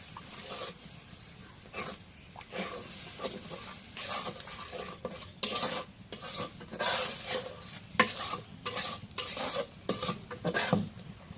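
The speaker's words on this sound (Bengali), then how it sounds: "এখন জিরা বাটা রসুন বাটা দিয়ে দিই লাউ দিয়ে দিতে" Bottle gourd stirred and frying in a pan with cumin and garlic paste, steady sizzle under repeated scraping and clinking of a spoon against the pot, close and fairly loud throughout.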